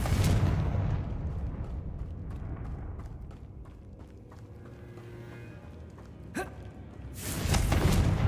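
A Confringo blasting spell bursts in Hogwarts Legacy, a loud booming explosion at the start rumbling away, then a sharp crack midway and another heavy blast near the end.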